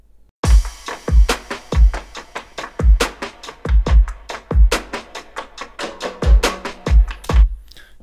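Punchy drum beat from a hip-hop production, sharp kick hits landing in a steady rhythm alongside crisp claps, loud and upfront with no voices.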